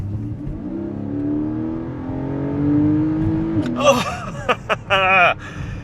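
A Porsche 718 Cayman GTS two-seater sports car with its engine mounted behind the cabin revs up, rising in pitch under a steady drone, then blips sharply several times near the end.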